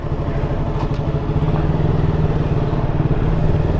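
A KTM Duke motorcycle engine idles close by with a steady, throbbing low rumble that holds at a constant level throughout.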